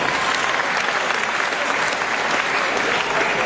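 An audience at a cultural gathering at a university claps steadily and densely for a few seconds with no let-up, sounding full and near.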